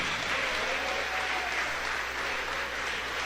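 A church congregation clapping their hands in worship at an evangelical service, a dense, continuous patter of many hands, loud and steady without pause.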